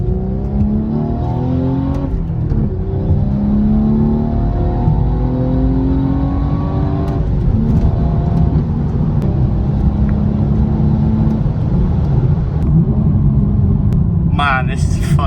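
A BMW 240 engine revs while driving, a loud, throaty rumble with rising and falling pitch sweeps as it changes gear, heard from inside the car while a person talks over it.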